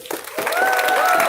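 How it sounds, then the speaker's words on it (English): Brief crowd applause and cheering at an outdoor Black Lives Matter rally, rising after a short pause and holding steady, with a sustained tone and some talk mixed in. "please give another round of applause for Julius"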